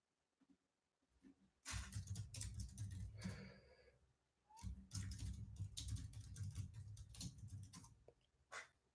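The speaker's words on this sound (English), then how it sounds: "I hate typing close to this keyboard." Close, rapid typing on a computer keyboard, clattering in two dense bursts separated by a short pause, with no talking over it.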